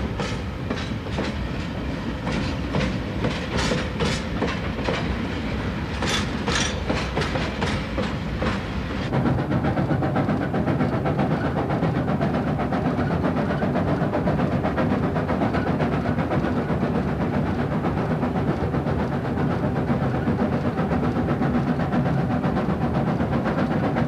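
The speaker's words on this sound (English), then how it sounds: "The train passes through the desert" Special expedition train of freight cars, passenger coaches and a dining car crossing the Gobi Desert, a steady rumbling roll with rhythmic clickety-clack of wheels over rail joints, louder and denser after the first several seconds.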